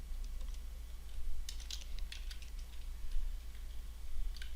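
Scattered bursts of light clicks from keys tapped on a computer keyboard while writing PHP and SQL code, quiet and close over a steady low electrical hum, with no talking.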